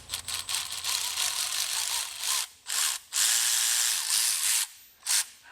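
A Milwaukee 2967 M18 high torque impact wrench runs in loud, close bursts, a dense buzzing hammer that stops and restarts several times with brief pauses, and no talking over it.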